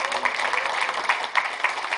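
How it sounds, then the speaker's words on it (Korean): Brief applause from an audience at a forum gathering, a steady patter of many hands clapping at moderate volume with a voice faintly underneath. "우리 조인석 공동대표님한테 고맙다고 박수 한번 쳤어요"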